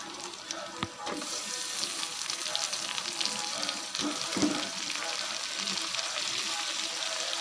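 Tomatoes go into a hot pan with chilli while cooking panna keerai, producing a hissing, sputtering sizzle broken by a few sharp clatters of utensils.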